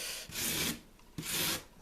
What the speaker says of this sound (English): take the rasp and smooth everything out